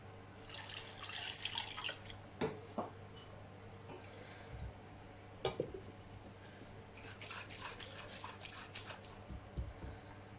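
Running water splashes and sloshes in bursts, with scattered drips and clinks in between, as a mixer grinder jar is swirled and rinsed under a tap.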